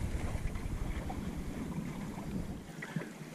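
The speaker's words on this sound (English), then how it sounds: "Now the breeze is picking up again." Wind gusting over a Welsford Navigator dinghy while sailing, a steady rushing roar with microphone buffeting and faint water sounds, fairly quiet and continuous, with no one talking.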